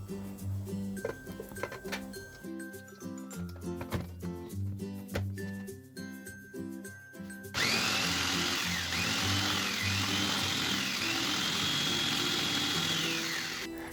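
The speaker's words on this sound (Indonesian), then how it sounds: "Ini aku pakai chopper." After a stretch of background music, an electric chopper starts up loud and close, pureeing pumpkin with sweetened condensed milk in a steady whirring motor drone with a rising and falling whine that runs to the end.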